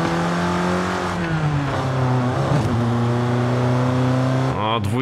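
A BMW E30 engine in Forza Horizon 5 revs up through the gears, its droning pitch climbing and then dropping sharply at each shift, loud and continuous.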